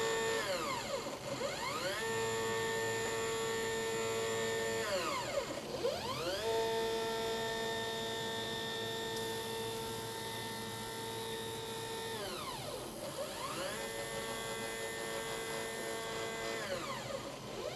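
Quilting machine stitching a trial-run pattern on a quilt, a steady high whine whose pitch sweeps up and down as the motor speeds and slows, held close and fairly quiet.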